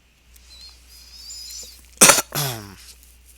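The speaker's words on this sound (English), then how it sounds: "Excuse me for the cough" A single sharp cough, then a rougher throat-clearing cough just after, close to the mic against a quiet room.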